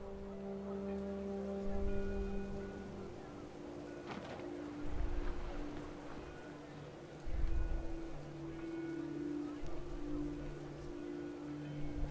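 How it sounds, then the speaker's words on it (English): Rain pours steadily in the video game What Remains of Edith Finch, a soft hiss of falling drops with a few louder swells, under a quiet sustained musical tone. "The rain came down in buckets then"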